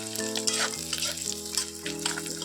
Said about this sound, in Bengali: তেলে কিন্তু ভেজে নিচ্ছি ভালো করে, যাতে বেশি গন্ধ না করে